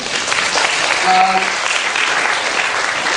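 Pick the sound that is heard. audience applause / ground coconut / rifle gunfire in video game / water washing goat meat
audience applause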